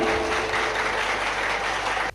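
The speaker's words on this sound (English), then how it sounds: "Yes, please clap your hands everyone." A crowd of people claps their hands together in a community hall, a dense, steady burst of applause that holds evenly for about two seconds and then stops abruptly.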